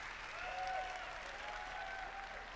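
Cheering and applause from the E3 2019 Microsoft press conference crowd, a broad continuous roar heard at moderate level with faint tonal sounds drifting over it.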